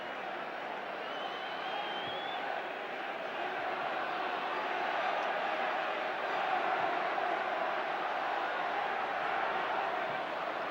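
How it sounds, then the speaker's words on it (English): Steady crowd applause and murmur fill a football stadium at Highfield Road during Coventry City v Liverpool in 1980, a broad continuous wash of sound at even loudness with no single voice standing out. "applause all around Highfield Road for a fine bit of football"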